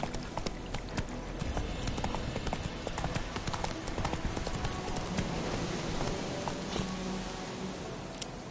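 Geralt's horse Roach in The Witcher 3, hooves clip-clopping in a fast steady rhythm throughout, close and continuous, with faint background sounds.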